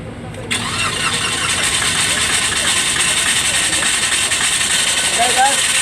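A flooded 2022 Toyota Wigo catches after a push start, its engine firing abruptly and then settling into a steady, close, loud idle with raised revs, while people talk nearby.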